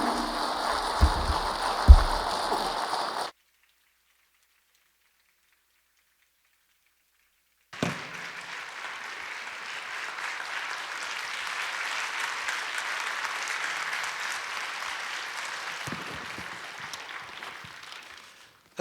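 Church congregation at a revival service claps in a dense, steady wash of applause that swells and holds for about ten seconds after a short burst of noise and a silent gap.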